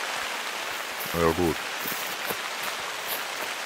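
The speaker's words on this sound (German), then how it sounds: "Regen." Rain falling in the hunting game theHunter Call of the Wild, a soft even patter of drops hissing across the landscape under a brief spoken remark.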